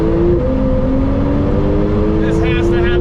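A custom Lamborghini Huracan accelerating hard onto a freeway, its engine note rising steadily and loudly through the gears in a sustained close roar, with a voice briefly audible toward the end.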